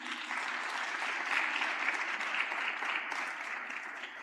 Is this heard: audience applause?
yes